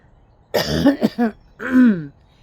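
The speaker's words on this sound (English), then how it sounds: "I have to clear my throat" Close, loud throat clearing in a few rough bursts on an outdoor porch in the morning, then a final drawn-out guttural clearing sound.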